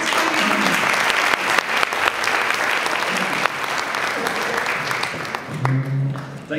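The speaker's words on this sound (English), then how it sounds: "A warm applause for him." Congress attendees at a micropigmentation lecture give warm applause for the presenter, sustained crowd clapping from start to finish, with a voice speaking over it toward the end.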